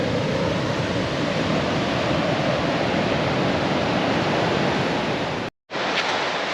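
Surf pounding a beach at Ponderlowy Bay on the Yorke Peninsula, a steady loud broadband wash of breaking waves that drops out for a brief moment near the end and then returns.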